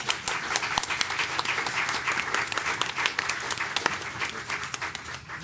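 An audience at the 2024 DeKalb County Mental Health Symposium, held by the probate court, gives a panel sustained, even applause: many hands clapping together at moderate volume for several seconds, with no talking.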